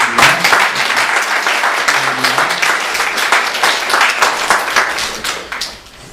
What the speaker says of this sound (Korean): 일어서서 한번 다 같이 박수로 환영하겠습니다.